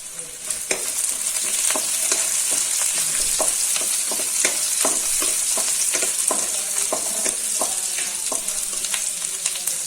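Small onions sautéing with curry leaves in a pan for a fried-egg gravy: a steady, close, bright sizzle runs throughout, dotted with frequent sharp clicks and scrapes of stirring, with no voices.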